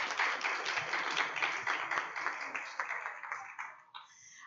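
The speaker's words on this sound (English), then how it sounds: "let's give another round of applause for our 2 speakers" An audience applauds at an Astronomy on Tap evening in Baton Rouge: dense, steady clapping that thins and fades toward the end.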